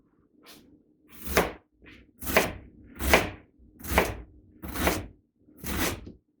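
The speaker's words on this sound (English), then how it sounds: "let's go ahead and chop up this onion." Knife chopping an onion for a sweet potato satay curry, six firm evenly spaced chops close by, each a sharp thwack against the board with quiet pauses between, no talking.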